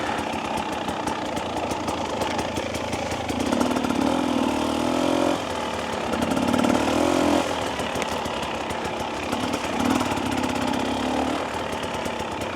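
A 2025 Husqvarna TE300 dirt bike engine running while being ridden on an open, sandy track, with a loud, steady buzzing drone that swells with a few throttle surges.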